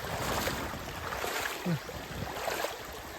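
Stream water flows over stones laid in a row. A soft, steady outdoor rush stays faint and continuous, with a brief low sound partway through.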